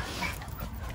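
A puppy whimpering close by, with short whiny cries and light panting. The sound is faint and lasts only a moment.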